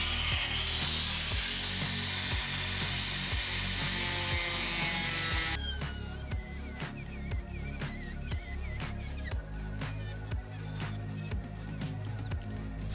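A drill bores out spot welds in rusty sheet metal on a 1964 Ford Fairlane, starting with a sustained high grinding whine and then breaking into uneven scraping and chattering bursts, close and fairly loud, with no speech.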